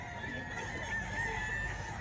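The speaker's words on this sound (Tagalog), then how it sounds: "Marami silang dalang manok mga bossing." A crowd of about twenty chickens brought for sale clucks and squawks in a steady, close, busy chorus of overlapping calls.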